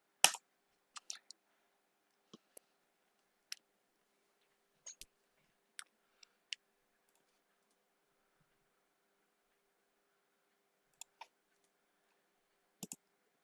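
A computer mouse clicks sparsely and faintly, with small isolated clicks scattered across a near-silent background and a couple of paired clicks near the end.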